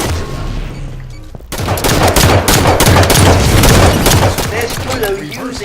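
Rapid gunfire from the Halo 5 video game, a dense sustained burst of shots with booms that starts abruptly after a short quieter lead-in and stays loud to the end.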